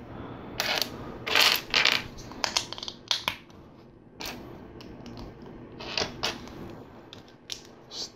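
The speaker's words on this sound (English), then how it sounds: "Stacking some bricks here." LEGO bricks are stacked and pressed together, giving a series of close, crisp plastic clicks and rattles in irregular short bursts with quiet gaps between.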